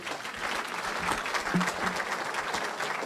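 Church congregation applauding at a French-language service where converts come forward, a steady dense clapping throughout with a few louder bursts and faint voices mixed in.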